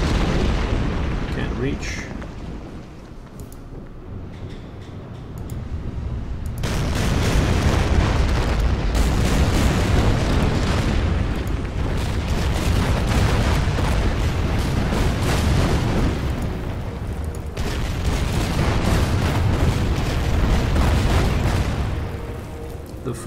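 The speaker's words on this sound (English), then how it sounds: "Bombing in here." Rumbling bombing explosions in the wartime strategy game Order of Battle, heavy booming blasts rolling in waves over a sustained low roar, with brief speech partway through.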